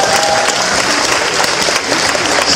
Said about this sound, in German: Okay, das war die Nummer 1, ein Applaus dafür.